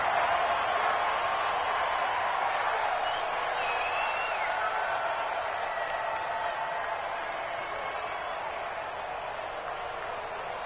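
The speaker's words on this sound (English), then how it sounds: "the crowd getting into it as we come up on a big 3rd down" A football stadium crowd at a Patriots versus Dolphins game cheers and applauds in a continuous, broad roar that eases slightly toward the end.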